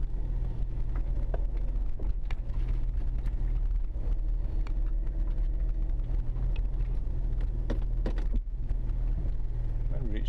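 A car is driven steadily with a low, continuous engine rumble and road noise throughout, building gradually with no clear revving peaks; a brief dip comes near the end and there's no talk.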